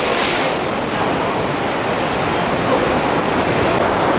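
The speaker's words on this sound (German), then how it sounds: "direkt hier voll an der Brandung." Sea surf breaks on the shore at Dubrovnik, Croatia: a loud, continuous broadband roar of waves close by, steady throughout with no voices.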